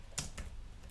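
Three separate clicks of computer keyboard keys, typed close by at an uneven pace in quiet surroundings.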